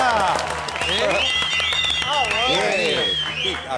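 Studio audience applause on the Argentine talk show Intratables, with a wash of clapping running throughout beneath prominent voices and tonal sounds.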